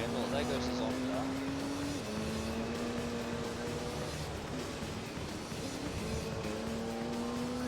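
A Pagani Zonda race car in Gran Turismo 3 drives by with a steady, droning engine tone whose pitch shifts as it passes, while someone talks over it throughout.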